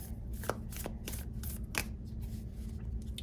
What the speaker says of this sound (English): It's not the easiest to shuffle,